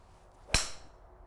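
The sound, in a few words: golf club striking ball off a practice mat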